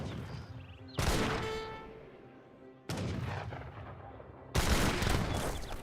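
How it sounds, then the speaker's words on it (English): Three heavy cannon blasts boom out one after another in Age of Empires 3, each a loud sudden report that rumbles and fades before the next, with no voices over them. "One villager gets annihilated by the cannon."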